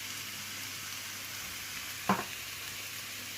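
A salmon filling with garlic fries in a pan, holding a constant close sizzle. About two-thirds of the way through there is a single sharp scrape or knock of a stirring utensil.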